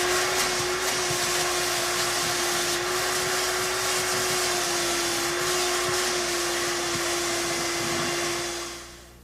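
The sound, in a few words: vacuum removing buffing dust from tire interior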